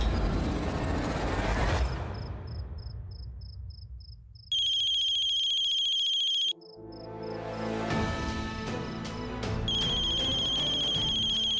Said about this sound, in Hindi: ये पक्का कोमल का फोन